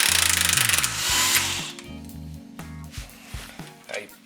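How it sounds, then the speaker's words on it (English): An electric impact wrench removes a bolt from the front suspension of a 2001-2005 Ford Explorer Sport Trac, giving stuttering bursts of hammering whir that stop and start, close, with someone talking through it. "Then grab your favorite electric impact"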